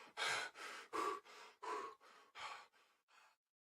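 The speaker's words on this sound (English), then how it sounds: "The event of the breathing sound slowly fades in and out based on whether the player is holding shift" A video game player character breathes heavily, alone and close, in about eight separate breaths of rising and falling effort that fade near the end.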